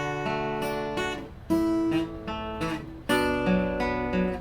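Guitar plucked note by note in a simple tablature melody, clear bright tones with ringing sustain, played solo at close range in a steady, unhurried rhythm.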